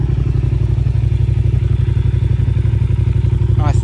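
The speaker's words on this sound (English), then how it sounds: "Starts and runs and idles beautifully." A 2008 Yamaha TDM900 motorcycle with 163,128 km on it idles steadily nearby, giving a deep, even, pulsing rumble from the pipes, with a brief rising chirp just before the end.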